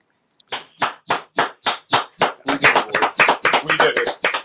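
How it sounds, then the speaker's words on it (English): A small group clapping, starting with slow distinct claps that quicken and overlap into steady close applause. "I think you're clapping"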